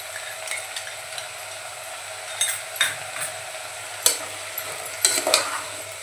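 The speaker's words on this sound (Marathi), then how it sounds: "आता लगेच आपण जे हिरवं वाटण करून घेतलंय कोथिंबीर आलं लसूण" Green paste of coriander, ginger and garlic frying in a pan for a Malvani-style black-eyed pea, potato and brinjal bhaji: a low steady sizzle broken by several scraping stir strokes and light clinks of the spoon.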